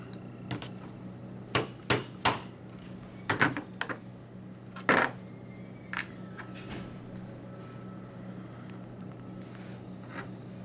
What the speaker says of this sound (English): now I'm going to punch out this pin right here so I can take out the bolt catch